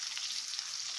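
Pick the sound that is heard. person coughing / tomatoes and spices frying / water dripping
tomatoes and spices frying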